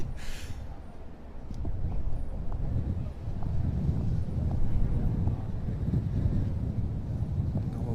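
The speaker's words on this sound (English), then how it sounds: "It's so windy." Steady, heavy wind buffets the microphone with continuous low rumbling gusts throughout, fairly loud and unbroken, at an outdoor T10 cricket match in Croatia.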